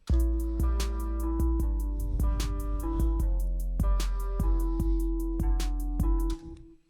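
An emo rap beat driven by deep 808 bass with no kick drum, booming sustained low notes under crisp ticking hi-hats and sparse melodic tones, steady and fairly quiet.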